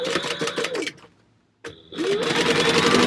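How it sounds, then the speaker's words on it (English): A sewing machine base stitching down the sides of a fabric panel at a 4 stitch length runs in a fast rhythmic clatter, pauses briefly, then starts again and runs steadily, close and loud. "we're going to take this to the sewing machine and I'm going to base stitch down the sides"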